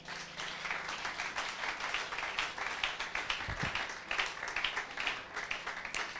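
Congregation applauding in a church during a French-language sermon, a steady dense wash of many hands clapping for about six seconds, fairly distant and even, with a brief low thump midway.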